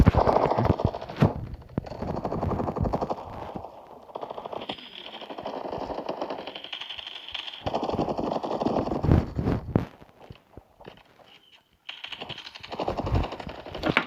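Gunfire in a shooter video game: rapid, clattering bursts of automatic fire in several stretches, broken by short pauses and a near-silent gap, moderately loud and close.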